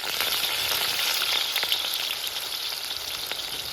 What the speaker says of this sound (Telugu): ఉల్లిపాయలు అయితే వేగినాయి, కలర్ చేంజ్ అయింది.